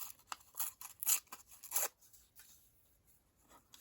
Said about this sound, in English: rip along the top